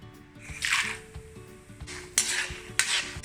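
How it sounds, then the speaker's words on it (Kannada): Almonds fry in a pan, with crackling sizzle under repeated scraping and clinking stirs of a metal spoon against the pan, arriving in short bursts. "ಬಾದಾಮ್ ಫ್ರೈ ಆಂಬತ್ತುಂಡು"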